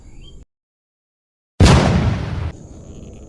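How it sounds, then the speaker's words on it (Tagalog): A single sharp gunshot blast rings out while fish hunting in a kangkong-covered waterway, loud and close, followed by a short fading rumble after a moment of silence. "Ayan, may putukan tayo."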